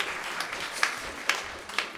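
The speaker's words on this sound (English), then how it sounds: "So a huge round of applause." Concert audience at a youth music festival applauds a young soloist after her bow, a soft, even patter of many hands with a few sharper claps standing out every half second.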